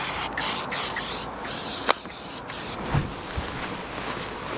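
Multi-solve cleaner is sprayed onto a van roof in a quick series of close, hissing spray bursts, with light rubbing and tapping between them, no talking.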